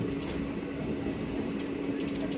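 Steady low rumble of a train running along the tracks through dense forest near Jaigaon, continuous and moderately loud with faint rattling on top.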